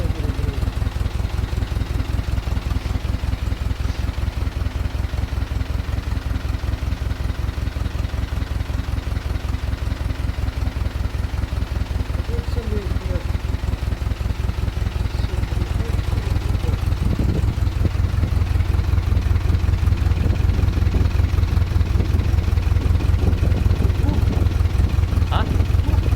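GAZ-MM 'Polutorka' truck engine idling at around 600 rpm with a valve ticking, a steady close rhythmic chug that runs throughout, with a voice heard only faintly.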